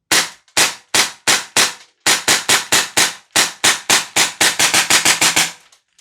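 A Tokyo Marui HK45 airsoft gas blowback pistol fires a rapid string of loud, sharp cracks, about twenty shots in quick succession with a brief pause near two seconds.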